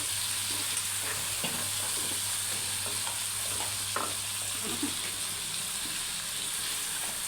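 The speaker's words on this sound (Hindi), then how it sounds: "अब इसमें हम आलू और मटर ऐड करके उसे अच्छे से भून लेंगे" Potatoes and peas sizzle and fry in a pan with cooked tomatoes while a spoon stirs them, giving a constant loud hiss with scattered scraping and stirring clicks.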